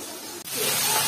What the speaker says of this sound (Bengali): যে মাছ ভাজা শুরু হয়ে গেছে।